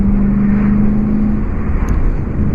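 Audi S5 fitted with an Armytrix exhaust driving, a loud steady engine drone heard from inside the car that fades slightly partway through.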